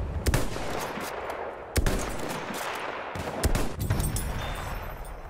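Rapid bursts of gunfire in the World War I shooter Battlefield 1, loud and close with several sharp shot clusters over dense battle noise, no talking.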